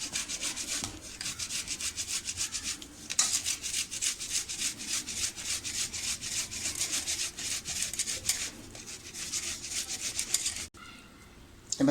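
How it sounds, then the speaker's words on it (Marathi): Boiled potatoes being grated on a hand grater for poha potato cutlets, a rapid rhythmic rasping of quick strokes running steadily, with a short pause near the start and a break near the end. "आपण असे किसणीवर किसून घ्यायचे."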